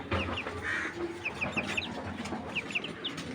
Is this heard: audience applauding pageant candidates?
no